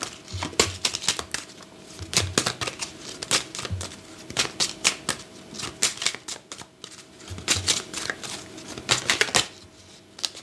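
Tarot cards are shuffled and drawn near at hand in quick bursts of riffling and slapping, with short pauses between rounds throughout.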